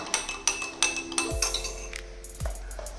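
A metal spoon clinks repeatedly against a glass of water while stirring in salt, quick taps, then a few ringing strikes with lingering tones; close and clear, no voices.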